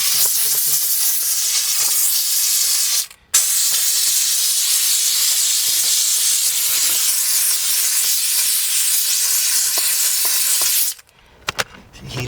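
A car steam cleaner blasts a loud, continuous hiss across a vehicle interior, broken by a short pause early on and stopping near the end, with faint clicks afterward.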